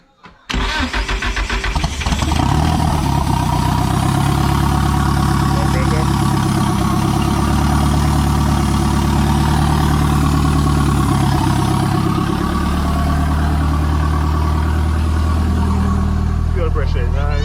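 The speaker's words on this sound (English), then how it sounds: "I have to just manually start it. Manually start the starter." A car engine, with a faulty starter, is cranked by hand through the starter wire and catches after a short burst, then settles into a loud, steady, low rumbling idle close by for the rest of the time.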